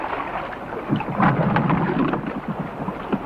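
Stormy weather at sea, heavy rain hissing steadily with deep rumbling thunder rolling and swelling through the middle, loud and continuous with no talk.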